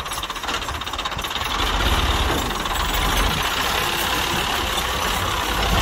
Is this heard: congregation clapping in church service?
no